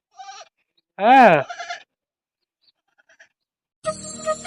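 A single loud, wavering goat bleat rings out near newborn goat kids, set between short bits of human talk and quiet pauses.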